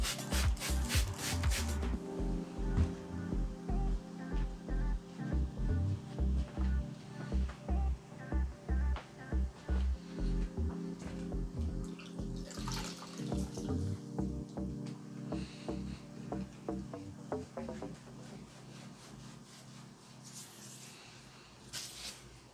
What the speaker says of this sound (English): finish off with some soapy water just to get the excess off